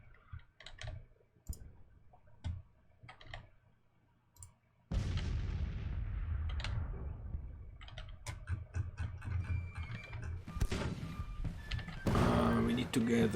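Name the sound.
cannon artillery fire in Grand Tactician Civil War video game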